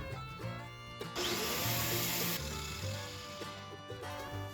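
Broken soldering iron tip being cut down with a grinder made from an angle grinder, a loud harsh grinding burst of about a second over a running motor whine, close and alone.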